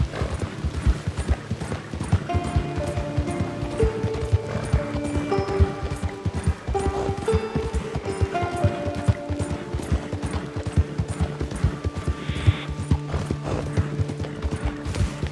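Steady clip-clop of horse hooves at a walking pace in Red Dead Redemption 2, on muddy paths in rain, continuous and close, with soft background music and ambient tones.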